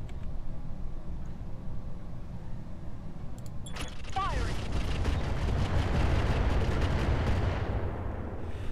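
Heavy mech weapons fire in the battle game Roguetech: a loud, sustained barrage of booming shots and rumbling blasts that swells after a few seconds into dense, continuous explosive firing.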